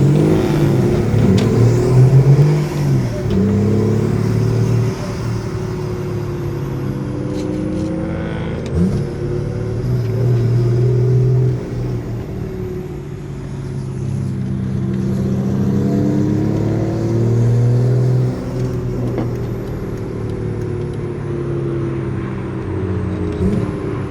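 A car cruises at night on the way to a car meet, the engine droning and surging through repeated revs and gear changes, loud and close throughout with no talk.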